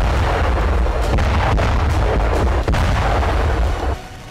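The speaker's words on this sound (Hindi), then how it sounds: "जमीन से रशियन आर्मी की आर्टिलरी आग बरसा रही है" Russian artillery fire in the Russia-Ukraine war, a dense, loud, continuous rumble of booming blasts with a few sharper cracks, fading slightly at the end.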